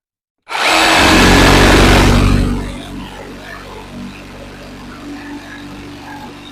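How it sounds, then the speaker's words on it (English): Hercules 20-volt cordless jigsaw making a straight cut through a board, a loud close buzzing blade stroke that starts abruptly, runs steadily for about two seconds, then drops away to quieter handling noise. "let's make a cut with it. I'm just going to do a straight cut with that all the way off."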